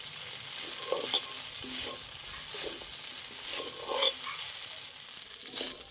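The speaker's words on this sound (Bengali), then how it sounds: "এই যে আমার চিড়েটা ভাজা ভাজা হয়ে গেছে" Flattened rice (chira) fries in a pan for chire pulao, giving a steady close sizzle broken by several scraping stirring strokes, with no talking.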